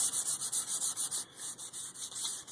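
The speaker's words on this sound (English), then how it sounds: "We're sanding down a axe handle here" Sanding down a Council Tool boy's axe with a 28-inch wooden handle to strip its varnish: quick, regular back-and-forth abrasive strokes, close and steady, about five per second with a brief pause midway.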